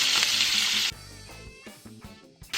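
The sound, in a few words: onion sautéing in sun-dried tomato oil and olive oil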